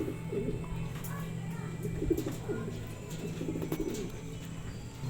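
Racing pigeon cooing softly at the loft as it returns from a 213 km derby race, low repeated coos over steady background noise and faint chirps.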